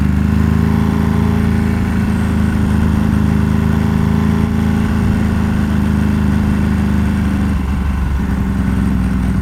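Ducati 749 motorcycle engine on the move, a loud, steady, throbbing drone close to the rider that runs without a break, with a slight shift in tone near the end and no voices.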